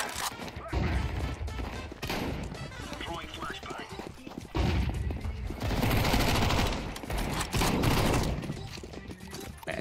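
Gunfire bursts from a Counter-Strike 2 match, loud and dense, firing in clusters with heavier volleys in the second half over steady game noise.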